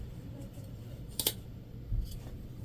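Scissors snip through material while cutting pieces for Alexia wristlets, giving two quick close crisp cuts in an otherwise quiet room.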